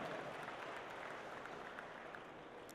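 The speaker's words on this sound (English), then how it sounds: "So give yourselves a big round of applause for what you're doing today" Audience applause at the opening ceremony of a state championship: an even wash of many hands clapping, sustained without break and moderately distant, steady in level with no voices on top.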